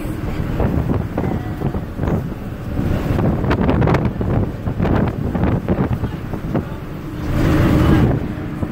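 A local bus rides between Chiang Rai and Chiang Khong in Thailand, with a steady rumbling engine and road noise, wind buffeting and occasional clatter, and no talk.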